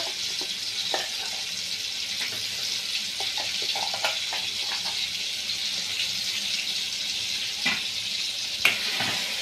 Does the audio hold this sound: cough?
no